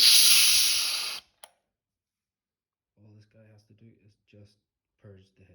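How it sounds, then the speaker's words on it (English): A strong, broad hiss of pressurized gas venting from a beer keg for about a second, stopping abruptly, followed after a pause by a person speaking. "So, just burping the keg."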